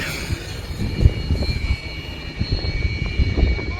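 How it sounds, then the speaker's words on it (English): Airplane engine noise near an airport in Kampala, Uganda, a steady distant roar with a faint high whine that runs through the whole stretch. "I thought all these guys were waiting for the plane to take off"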